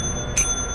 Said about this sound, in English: I really like this bell.